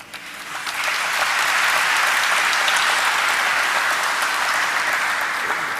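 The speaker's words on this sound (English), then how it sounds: "so good, keep clapping." Audience at a stock listing ceremony for ideaForge Technology breaking into applause, clapping rising quickly in the first second to a dense, steady, loud ovation that holds to the end.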